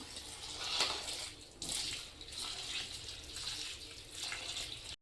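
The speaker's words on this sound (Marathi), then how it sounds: "डाळीला आता स्वच्छ धुवून घेते मी." Toor dal lentils being washed clean in water, with running tap water splashing and swishing in a basin in uneven surges and pauses, fairly quiet and close with no talking.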